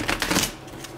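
Tarot cards being shuffled by hand, a quick burst of close, crisp riffling clicks that fades into a softer rustle.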